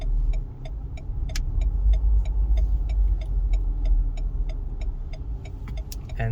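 A car drives past on a road with a swelling low rumble that builds, holds, then fades away, while sharp, evenly spaced ticking clicks repeat throughout.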